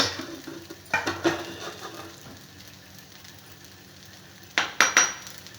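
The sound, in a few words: dosa cooking on a hot griddle (tawa)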